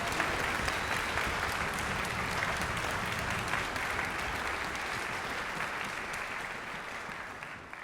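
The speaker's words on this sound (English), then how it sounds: "could you please join me in a round of applause for all the board members" A concert hall audience gives the board members of an all-volunteer symphony group a sustained round of applause, dense and steady throughout, fading slightly toward the end.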